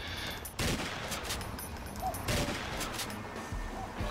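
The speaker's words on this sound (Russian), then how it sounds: "Кто-то стреляет" Gunfire in the off-road driving game SpinTires, several loud sharp shots and short bursts ringing out irregularly over a constant background rumble.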